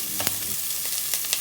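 Grated carrots and potatoes fry in a pan with a brief, light sizzle and a few short crackles and scrapes.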